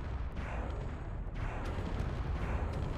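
Flak cannons firing in the Space Engineers video game: a dense, continuous roar of rumbling bursts with a few sharper cracks, steady and loud throughout.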